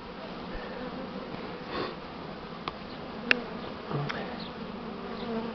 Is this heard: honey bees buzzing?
yes